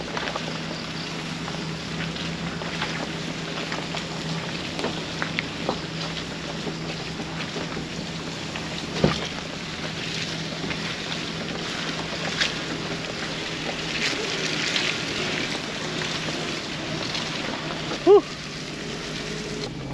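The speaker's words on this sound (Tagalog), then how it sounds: "Ayun o, narinig nyo. Ayun o, uga ng uga yung sasakyan." Minivan driving off-road on a steep, rough track, heard inside as a steady rumbling roar with scattered rattles and a couple of sharp knocks as the body rocks.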